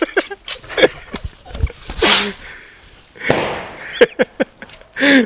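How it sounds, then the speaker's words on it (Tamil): Firecrackers lit and bursting outdoors during a Diwali celebration in Sri Lanka: a string of sharp, loud pops and bangs with fizzing bursts in between, some close and cracking, heard alone without talk. "இது பூரிஸ் வெடி சீர்வான். இப்போ தான் கொளுத்த போகிறோம்."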